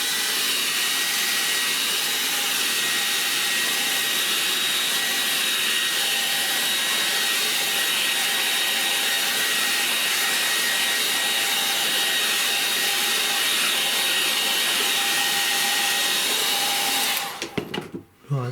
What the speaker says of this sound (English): Then I'm going to bone dry this with a hairdryer.